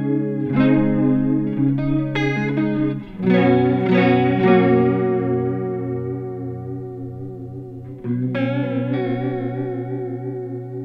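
Electric guitar played through the J Chorus setting of a Valeton Coral Mod chorus pedal, ringing chords with a shimmering, slightly detuned wobble, sustained and loud, fading out and then restruck near the end, no talking.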